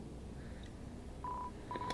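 Telephone dialing in the game Deltarune, a few short keypad tones pressed one after another over a low background hum, soft and without voices.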